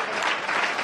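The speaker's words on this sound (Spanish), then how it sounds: "¡Un aplauso para Punto Pelota!" A studio audience at a live Spanish football talk show bursts into brief, dense applause, an unbroken burst of clapping with no voices over it.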